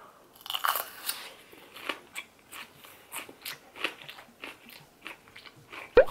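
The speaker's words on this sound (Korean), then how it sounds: "파프리카를 쌈장에 찍어 먹고 있는 거야." Crisp, loud bites and crunchy chewing of raw bell pepper dipped in ssamjang, eaten alongside pork belly, come in a steady rhythm of close crunches with no talking.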